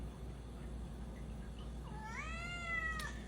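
A quiet room, then a single clear, drawn-out cat meow rising and falling near the end, close by.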